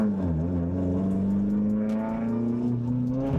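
A 4AGE-engined rally car driving under steady load, its engine note a sustained harmonic drone that dips slightly and then rises, consistent with fuelling hesitation, heard from close by without speech.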